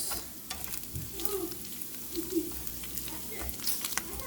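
Picadillo meat sizzles steadily in a pan while being stirred, with soft scraping and faint background voices.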